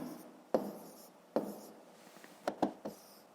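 A pen or pencil writes numbers on paper for a fifth-grade maths exercise, quiet scratching strokes broken by several sharp taps, sounding close and alone.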